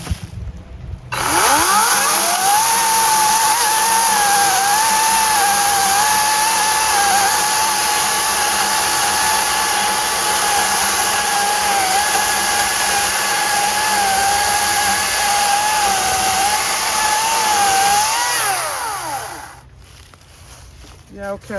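An EGO 18-inch 56V battery chainsaw cuts through wet oak, running close and loud for about eighteen seconds as a high whining motor buzz with wavering pitch under the load, then winding down.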